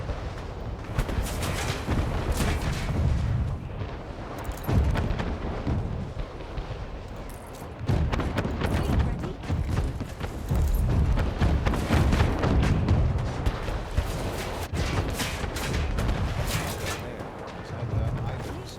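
Ship cannons fire in Anno 1800 during a naval counterattack, a dense barrage of booming thuds and rumbling blasts rolling on almost without pause for nearly twenty seconds, with a voice talking over parts of it.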